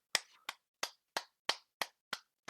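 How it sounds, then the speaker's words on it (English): Eight sharp, evenly spaced claps in a steady rhythm, close and crisp with silence between each, like a single pair of hands or a small group clapping in applause after a podcast session. "Round of applause for everyone."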